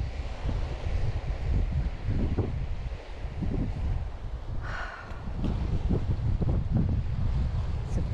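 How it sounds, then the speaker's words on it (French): Gusty wind buffets the microphone with low rumbling bursts on the East Coast Trail, accompanied by a faint wash of nearby clear water. "Petit vent là est parfait."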